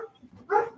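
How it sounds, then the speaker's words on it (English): Pet dogs barking in a home, a short muffled yelp followed by a louder bark, close by and with no talk over it. "Holy cow, my dogs are losing their minds."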